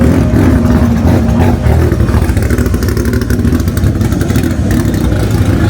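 A turbocharged Honda race car engine runs loud and close at a drag raceway during a Honda event, a steady rough, throbbing roar that holds level throughout with no talk.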